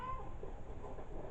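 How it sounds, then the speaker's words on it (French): A house cat meows indoors, a single faint call near the start and then softer sounds over low room noise. "Ah, il y a mon chat qui miaule."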